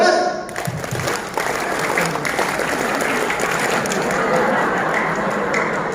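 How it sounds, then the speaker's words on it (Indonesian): A crowd of about a thousand farmers at a motivational event in Bogor does a scout clap, a dense, continuous roar of many hands clapping together that fills the whole stretch. "Malah tepuk pramuka."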